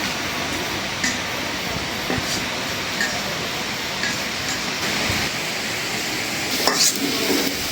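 Food sizzles steadily in a pan while being fried until browned, a dense close hiss with faint scraping stirs, and no one talks over it.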